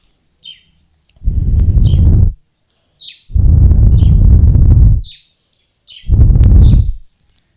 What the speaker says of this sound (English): catch this bird and take it right home so that it will sing for me every day